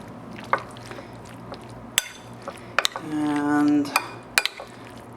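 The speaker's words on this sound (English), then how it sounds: "give this a stir" Pasta being stirred in a creamy raw garlic and hemp sauce, with scattered clinks of a utensil against the bowl and soft wet mixing, sparse and close, plus a brief hum and a single spoken word.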